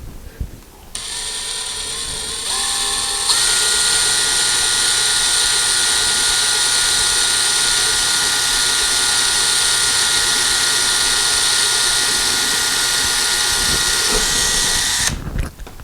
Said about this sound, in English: we have our holes marked where we're going to drill them, and we're going to put a very small pilot hole right here